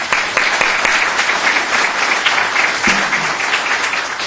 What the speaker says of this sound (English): yes, let's round the applause.